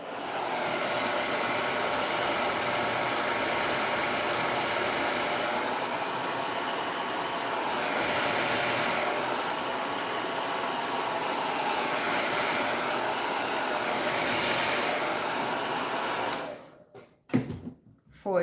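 A hair dryer blowing steadily on a craft door or wall decoration, a loud, close, continuous whoosh that runs for most of the clip before cutting off near the end, followed by a few brief knocks.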